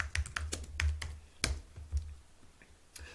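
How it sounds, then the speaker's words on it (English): Irregular bursts of keystrokes on a computer keyboard while entering a search query, sharp close clicks with short pauses between them and no talking. "let's say we're gonna type dentist in the UK"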